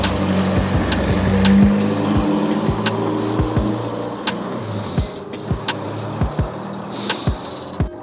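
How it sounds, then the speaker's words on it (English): A Ford 1600 Crossflow engine on a twin-choke carburettor runs steadily in a garage, with a rough idle and sharp clicks and taps repeating over the running engine. "1600 Crossflow running on a twin choke"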